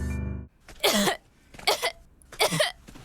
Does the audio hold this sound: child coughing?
yes